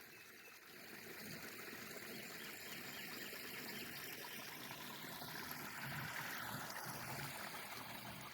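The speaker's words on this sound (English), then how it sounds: "So you can hear the waterfall," A steady, distant rush of a waterfall in a gorge in the Cheaha Wilderness, Talladega National Forest, a soft continuous roar with no voices.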